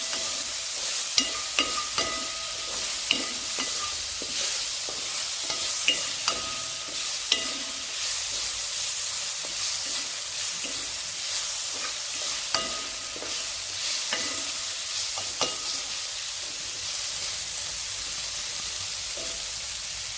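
Tomatoes sizzle and fry steadily in a pan over high gas, with scattered clicks and scrapes of stirring throughout; no voices.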